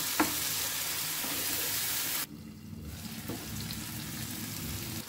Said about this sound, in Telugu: వేసుకొని మిక్స్ చేసుకొని సాఫ్ట్గా ఉడికే వరకు కూడా ఇలానే ఫ్రై చేసుకుంటూ ఉడికించుకోవాలి